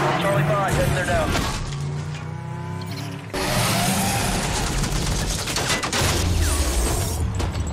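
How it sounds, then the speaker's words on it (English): In Need for Speed The Run, a civilian helicopter fires on traffic in a city financial district, rapid gunfire rattling over engine roar and car noise, with a sudden cut midway and voices talking over the action. "we have a civilian helicopter firing on traffic in the financial district"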